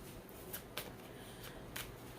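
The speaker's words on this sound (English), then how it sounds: "you cleanse the space, you cleanse the cards, you shuffle them." Tarot cards are shuffled by hand in a quiet room, giving a few soft, brief riffling snaps spaced irregularly over low background hiss.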